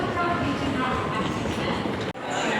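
Steady rumbling of a Shinkansen train arriving at a station platform, broadband and continuous, with murmuring voices in the background and a brief dip near the end.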